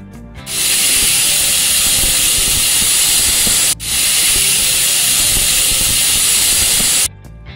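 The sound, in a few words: pressure cooker whistle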